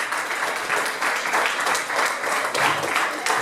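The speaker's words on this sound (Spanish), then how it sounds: "Démosle un aplauso fuerte al Señor." A church congregation bursts into loud, continuous applause filling the room, a dense wash of many hands clapping together without a break.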